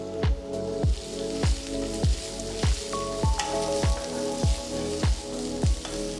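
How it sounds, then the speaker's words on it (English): Chopped garlic, ginger and red chillies fry in hot oil in a pan, a constant close sizzle punctuated by regular thuds and scrapes of stirring roughly every second, without any voices. "I'm just going to add a few chopped red chillies."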